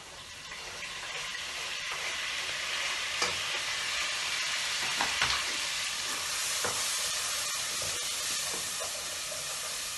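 Chopped tomato hits hot oil with okra (bhindi) in a pan, giving a steady, close sizzling hiss that runs throughout, with a few brief sharper crackles and spatters and no talking.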